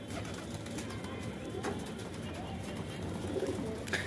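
A pigeon coos at a loft run by a Delhi pigeon keeper, low and soft against a steady background of ambient noise, with no talking over it.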